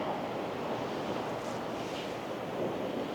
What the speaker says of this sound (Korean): 여기 파도 소리가 너무 예쁘게 들려